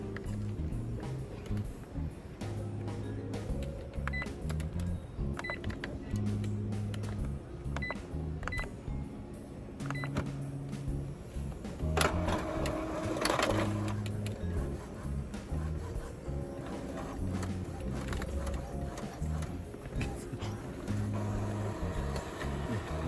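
An Epson WF-2851 all-in-one inkjet printer runs a nozzle check, giving a quiet, rhythmic series of mechanical whirs, clicks and shuttling print-head passes with short tonal motor notes over about twenty seconds.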